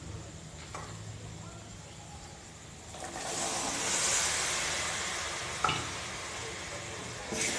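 Boiled peas fry with mashed potato and spices in a pan, giving a steady soft sizzle that rises into a louder hiss midway, with scraping stir strokes and a voice speaking quietly underneath.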